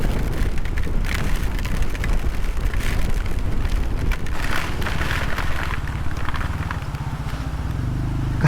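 Heavy rain and strong wind during a fiesta, a loud continuous roar of rain with gusty wind buffeting the microphone, steady throughout, with faint voices mixed underneath.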